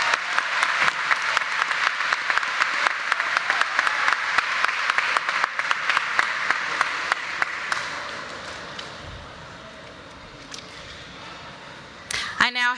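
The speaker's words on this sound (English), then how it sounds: "Let's give them all a round of applause at this time." A large commencement audience at Harris-Stowe State University claps loudly and steadily, the applause fading out over several seconds before a brief burst of noise at the end.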